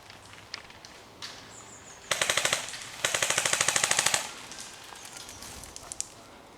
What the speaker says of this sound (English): There's some fire coming in over here.